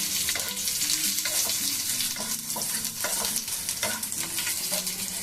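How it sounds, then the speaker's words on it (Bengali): Pointed gourd is stirred with mustard in a hot frying pan, giving a constant loud sizzle with repeated scraping strokes of the spatula. The sound is close and continuous, with no talking. "এখন এগুলোকে আমি সব দিয়ে দেবো।"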